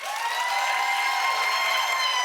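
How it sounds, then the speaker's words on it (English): A studio audience on a dating show claps to vote for a contestant named Damani, a dense, even wash of applause that holds steady at a fairly loud level throughout. "Clap if you think it ought to be Damani."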